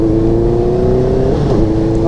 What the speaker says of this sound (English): I think this is the CBR650F or something like that.